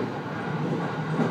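A JR 209 series local train on the Narita Line runs toward Narita station, with a steady, close interior rumble of wheels and motors throughout.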